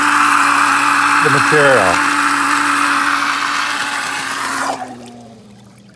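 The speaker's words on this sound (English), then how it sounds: "It's a small pump that is used in an external system to filter" Small pump filtering duck pond water as part of an external filtration system, running with a steady whirring hum under a person talking, then cutting off abruptly near the end.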